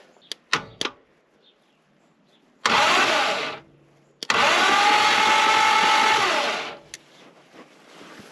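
A Reliant Scimitar GTE engine cranks on the starter in two separate attempts, each a sustained whirring churn lasting a couple of seconds, after a few sharp clicks, with no catch or firing.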